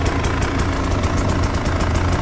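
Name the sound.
KTM EXC 300 two-stroke enduro motorcycle engine idling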